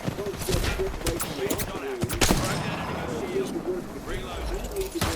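Rapid bursts of video-game gunfire in Apex Legends crackle in sharp, clustered volleys, close and loud, mixed with game effects and a tonal hum, while a voice talks over the action.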